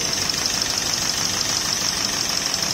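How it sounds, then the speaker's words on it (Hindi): A six-cylinder GMC Epica engine with weak rings and pistons runs with steady blow-by, giving a loud, continuous rough roar with a hissing edge that holds evenly throughout. "ये गाड़ी देखिए कितना बैक फायर इसका, सॉरी ब्लो मार रही है ये गाड़ी"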